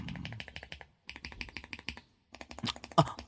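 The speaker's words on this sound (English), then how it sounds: "you must be really digging into those keyboards today" Rapid, steady tapping on a computer keyboard, close and fairly loud, in short bursts with a brief pause around the middle, set in a quiet room.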